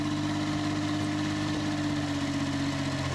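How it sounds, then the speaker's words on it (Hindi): A Mitsubishi mini tractor's engine idles steadily right after starting, a close, even mechanical chug with a low droning hum and light knocking throughout, no voices. "और अभी ये ट्रैक्टर स्टार्ट हो चुका है"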